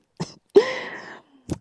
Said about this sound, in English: If I got a little coughing going on